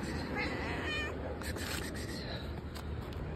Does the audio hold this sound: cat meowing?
yes